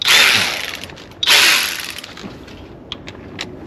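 A hand ratchet wrench clicks rapidly through two strong bursts during a Honda Odyssey 3.5 VTEC tune-up, then fades to lighter, scattered clicks and taps.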